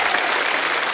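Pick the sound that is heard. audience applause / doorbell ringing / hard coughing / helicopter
audience applause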